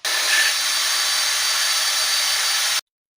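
A step drill bit boring a hole for a kill switch, a steady high-pitched grinding whine that runs loud and unbroken for nearly three seconds, then cuts off abruptly to silence.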